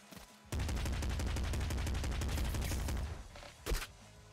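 The Slugger weapon in the video game Nuclear Throne fires a fast run of loud, punchy shots for about two and a half seconds, followed after a short pause by one more sharp blast, with no talking.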